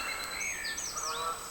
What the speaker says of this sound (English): noisy geese on the canal